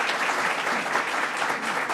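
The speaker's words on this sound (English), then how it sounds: "Let's give a round of applause to Dr." Steady applause from an audience at a government announcement event, a dense wash of many hands clapping continuously, moderately loud and sustained for the whole stretch without speech.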